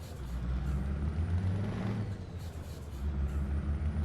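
A Scania truck in Euro Truck Simulator 2 releases its air brake with a sharp hissing burst over a low idling diesel rumble, heard close inside the cab with no talk.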